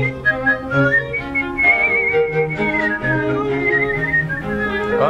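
A throat whistler produces a continuous run of shifting, reedy whistled pitches with layered harmonics, close and fairly loud, with no talking.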